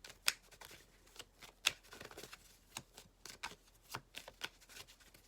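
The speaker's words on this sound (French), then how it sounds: "j'ai l'oracle, le manuscrit que je brasse tout d'abord" A deck of oracle cards being shuffled by hand, close and fairly quiet, a run of crisp riffling bursts and soft slaps in an uneven rhythm with no voice.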